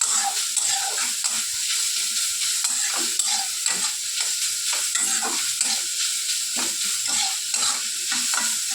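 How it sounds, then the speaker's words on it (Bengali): Papaya pieces fry in hot oil for a chutney, with a steady, bright sizzle and repeated scraping stirs of a spatula against the pan, close and continuous with no talking. "খুব ভালো করে পেঁপেটাকে কিন্তু ভাজা ভাজা ভেজে দিচ্ছি।"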